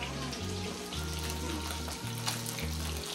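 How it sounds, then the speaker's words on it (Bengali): Rohu fish frying in a pan at a market-day home kitchen gives a steady, close sizzle throughout, with a low droning hum and faint background voices beneath. "রুই মাছ ভাজা"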